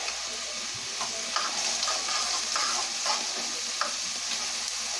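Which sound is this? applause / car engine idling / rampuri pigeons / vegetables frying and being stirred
vegetables frying and being stirred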